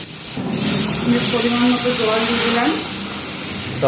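Water hits a hot pan of frying seasoned momo filling, and a loud hissing rush of steam swells and then fades over a few seconds as someone talks over it.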